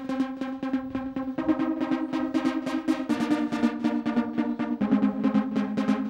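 A Roland SH-32 synthesizer runs its built-in arpeggiator, firing a fast, continuous pattern of plucky notes that shifts pitch every couple of seconds, moderately loud and alone.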